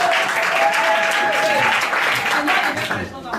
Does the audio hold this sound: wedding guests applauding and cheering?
yes